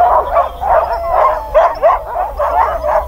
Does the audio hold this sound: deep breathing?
no